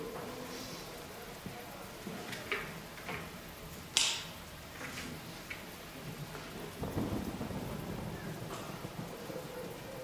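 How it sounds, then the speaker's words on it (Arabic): Rain falls steadily outdoors with low rumbles of thunder rolling through, and a sharper crack or tick partway in, heard faintly behind muffled indoor voices. "الدنيا بتمطر بره."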